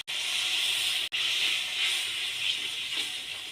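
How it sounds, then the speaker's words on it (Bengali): Water hits a spice paste frying in a pan, setting off a loud, steady, close sizzle that hisses continuously and fades slightly toward the end. "অল্প একটু জল দিয়ে দেব।"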